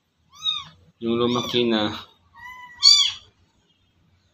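House cats that are used to people meow in a few close, loud, pitched calls, one long drawn-out meow in the middle between shorter ones, with a quiet background.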